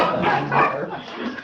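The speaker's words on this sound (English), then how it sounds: "Dogs, Mr. Bishop." Dogs barking during a board meeting held by phone, a short close burst of yaps and a whimper heard alone.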